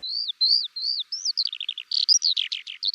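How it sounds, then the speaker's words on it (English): Skylark singing overhead on a farm in the English countryside, a continuous run of clear, high chirps, warbles and trills rising and falling without pause, heard alone and fairly close. "what could be more English than a skylark singing overhead?"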